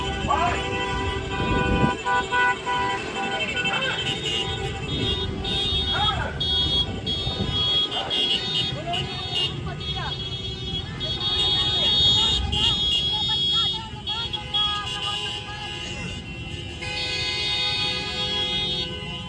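Car horns honking at a public support rally, a dense overlapping chorus of sustained and short toots from many vehicles that carries on without a break while voices talk faintly underneath.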